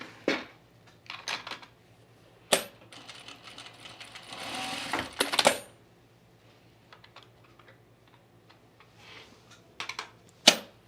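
A sewing machine working on an Atlas blouse gives short bursts of rapid stitching with a longer run in the middle, separated by quiet gaps and sharp clicks, heard close with no talking.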